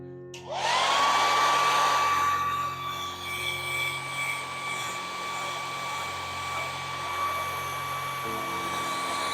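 A hair dryer starts up and blows steadily and loudly, used to quick-dry paint on a custom Ghostbusters Afterlife Spengler neutrona wand prop, its whine holding a constant pitch throughout with no talking.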